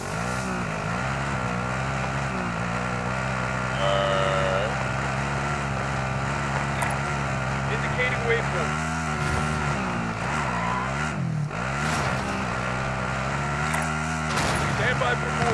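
A car drives in a video game with a steady, droning engine hum that rises and falls slightly throughout, under voices.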